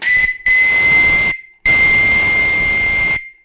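A loud, shrill steam whistle on a live-steam launch blows in two long blasts separated by a short gap, steady and piercing with a hissing edge.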